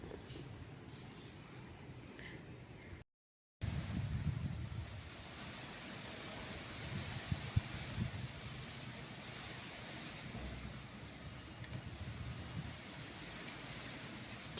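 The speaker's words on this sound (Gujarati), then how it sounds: "કેટલો પવન છે." Strong wind roars continuously outdoors in a Gandhinagar housing society, a dense low rumble buffeting the microphone, broken by one brief dropout, with no speech.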